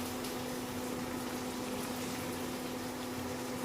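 Noodles steaming and boiling in a pot on the stove, a steady, even bubbling rumble with a constant hum underneath, continuous and unchanging throughout, with no voices.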